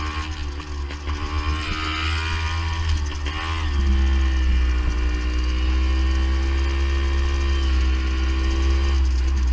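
A vintage Beta Synt trial motorcycle engine with a slipping clutch and a lean-running mixture runs steadily up close. It rises in pitch briefly a few seconds in, then settles into a loud, even drone.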